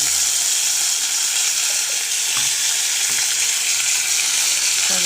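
Spices and tomato with asafoetida frying in a wok-style pan, a loud continuous sizzle with occasional soft scrapes of stirring, no voices.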